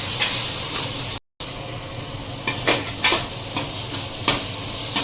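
Ginger-garlic paste sautéing in a pan for mutton curry: steady close sizzle under repeated scrapes and clinks of a stirring spoon, with a brief dropout partway through.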